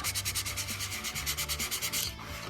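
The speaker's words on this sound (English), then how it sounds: "we're just gonna scuff it a little bit" Hand sanding scuffs the body filler on a VW Westfalia camper's bodywork, a close, rhythmic rasp of quick back-and-forth strokes that repeats steadily and then slows near the end.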